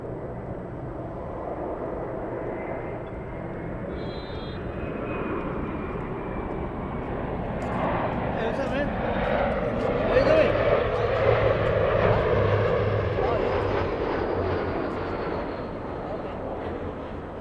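An All Nippon Airways airliner taxis at LAX on a gusty day, a steady broad jet engine rumble and whine holding under ongoing talk, swelling slightly midway amid wind noise.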